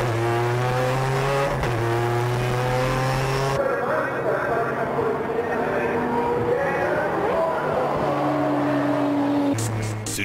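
Race cars in a Turbo versus NA contest charge through the last corner at top speed, engines droning loud with shifting pitch as the cars pass and change gear, while a commentator talks over them.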